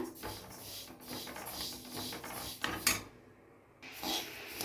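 Sesame seeds roast in a pan over a low flame, giving a continuous dry scraping and rustling as they are stirred, with occasional metallic clinks of the spoon against the pan, close and fairly quiet.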